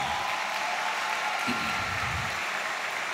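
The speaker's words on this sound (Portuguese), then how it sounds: "Vamos recebê-los com a salva de palmas carinhosa" A church congregation applauds to welcome a young engaged couple, a soft steady wash of clapping from a distance that holds evenly throughout.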